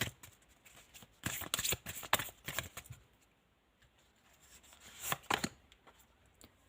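Tarot cards shuffled by hand in quick riffling bursts, crisp papery flutters and slaps close by, quiet between two busy clusters of shuffling.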